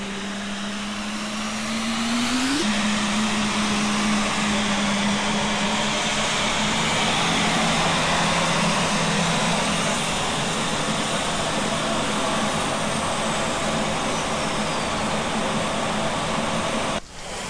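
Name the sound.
airliner jet engines starting up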